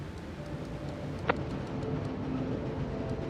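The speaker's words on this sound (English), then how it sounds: "Train." A train passes in the video game A Memoir Blue, a steady broadband rumble with a single sharp click partway through, holding at a constant level for the whole stretch.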